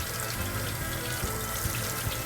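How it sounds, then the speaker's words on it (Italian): Beef bones rinsed under running tap water after blanching, a loud steady rush of water from the faucet splashing in a sink, continuous throughout with no talking. "spegniamo il fuoco e le laviamo accuratamente sotto l'acqua corrente"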